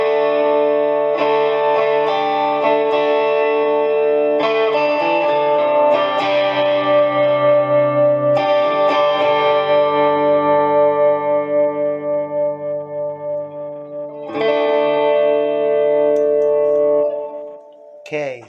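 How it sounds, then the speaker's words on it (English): Effects-laden instrument tones with reverb and delay both engaged, sustained chords ringing and trailing off in echoing washes, fairly loud with swelling repeats and a final restrike near the end. "We got the reverb and the delay, both sides turned on."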